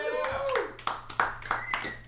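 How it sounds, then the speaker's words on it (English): Scattered audience applause at an online open mic comedy show, a few claps over someone speaking, with small clusters of hand claps rising between his words. "More applause."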